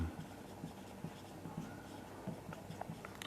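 Chalk or marker writing on a classroom board, faint rhythmic taps and short scratchy strokes repeating at a steady pace, quiet and distant, with no talk over it.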